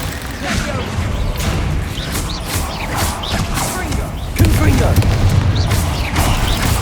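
Confringo fire spell blasts in Hogwarts Legacy during a fight with giant mutated spiders, giving repeated booming bursts and crashes in a dense game battle mix, with a heavier blast partway through and a voice speaking over it.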